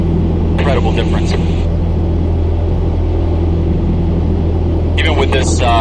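A Piper Cherokee 140 climbs in flight after work on cylinders 1 and 3, its engine a steady, loud, low drone throughout, with a person talking briefly over it near the start and again at the end.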